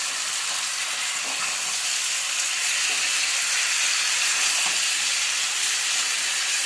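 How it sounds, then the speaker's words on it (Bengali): Ground tomato paste fries with potatoes and spices for a vegetarian alur dom, giving off a loud, even hiss and sizzle throughout. "এবার আমি এই টমেটো যে বাটাটা বেটেছিলাম এটা এর মধ্যে দিয়ে আবার একটু ভাজা ভাজা করব।"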